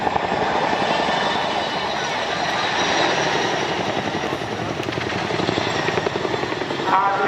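A Boeing CH-47 Chinook helicopter thrums loudly and steadily close by as it repositions during an airshow flight demonstration, with rotor chop and engine whine throughout while a voice talks over it.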